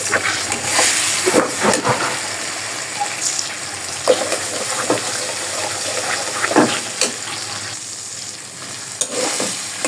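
Figs and green chillies hit hot oil in a pan, sending up a loud, continuous sizzle broken by several sharp crackling bursts and stirring scrapes throughout.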